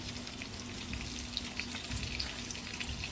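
Potatoes fry in hot oil in a pan on a high flame, giving a dense, continuous close sizzle with faint crackles while they are stirred.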